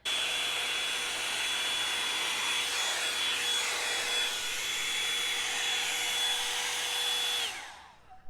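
A Revlon One Step hair dryer blows in a steady, loud whine with a constant high tone for about seven seconds, then cuts off and winds down, with no talking.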